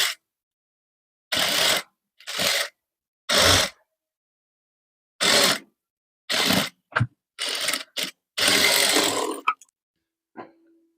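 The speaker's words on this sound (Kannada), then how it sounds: "ಈಗ ಮಡ್ಚಿ ಲಾಂಗ್ ಸ್ಟಿಚ್ ಹಾಕೊಂಡ್ಬಿಡೋಣ." A sewing machine runs a long stitch along a folded blouse hem in short, separate bursts of whirring, close and clear, with silent pauses between runs while the fabric is adjusted.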